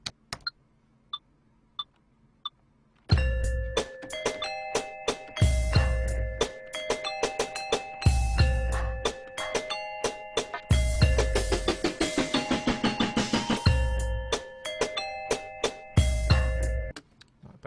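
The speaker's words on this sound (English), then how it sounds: "fill it in a little bit more with another layer of these bells, but higher" Layered bell tones from the BTV Solo beat-production unit play a bright melodic pattern over punchy drum hits, after a few sparse clicks at the start, with a denser higher bell layer filling in toward the end.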